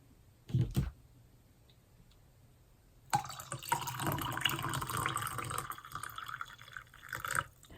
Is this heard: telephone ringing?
no